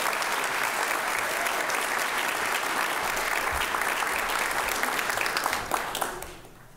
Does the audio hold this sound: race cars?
no